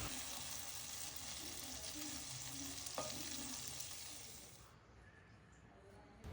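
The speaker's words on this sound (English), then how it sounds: "I will roast them for few minutes and take out from the pan" Slit green chilies and diced tomatoes roast in hot oil in a pan, giving a steady, close sizzling hiss that fades and quiets near the end.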